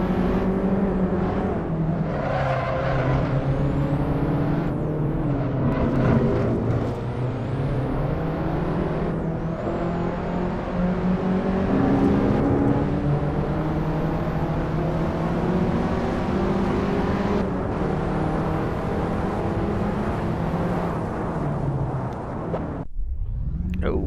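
Race car engine in a VR racing video game, a loud, steady high-revving whine that rises and falls through gear changes and corners, continuous and up front before cutting out abruptly at the end.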